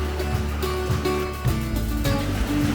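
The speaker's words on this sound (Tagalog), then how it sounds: "Lakas ng alon." Strong ocean waves at a beach in Caramoan, a continuous roaring wash of surf heard outdoors alongside a low droning engine hum, with no talk.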